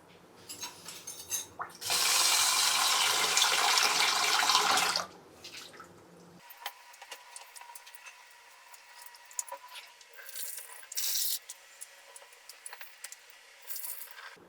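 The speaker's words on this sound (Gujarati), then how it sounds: "પેલા બે ત્રણ પાણી ધોઈ લેશું આને" Soaked moong dal rinsed in water in a kitchen: a roughly three-second rush of pouring, splashing water, then quieter wet squishing and small drips as the lentils are swirled and handled.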